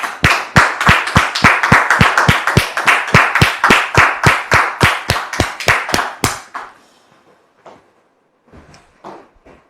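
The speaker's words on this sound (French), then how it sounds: "sous vos applaudissements, s'il vous plaît" A studio audience claps in a tight, even rhythm, about two dozen loud synchronized beats, then stops abruptly, leaving quiet with a few faint scattered sounds.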